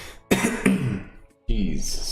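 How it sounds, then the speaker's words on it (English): Coughing fit with throat clearing from a man at a computer: two sharp loud bursts close to the mic, a brief pause, then another harsh rasping cough. "A cough fit there."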